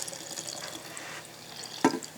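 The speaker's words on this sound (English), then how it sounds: "I'm going to pour in my already first ferment of kombucha." Fermented kombucha from a first ferment is poured into a jar, giving a close, brief stream of trickling liquid with a sharper splash near the end and no talking.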